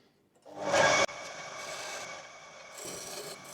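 A wooden mallet being turned on a lathe, a near, steady scraping rasp of the tool on spinning wood, with a brief louder cut at the start and a few shifts in pressure.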